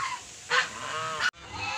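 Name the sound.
domestic geese honking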